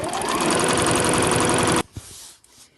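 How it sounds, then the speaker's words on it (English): A sewing machine runs loud and close in one continuous burst, stitching along the edge of a dust bag, then stops abruptly, leaving a couple of small clicks. "I'm just sewing down this edge here"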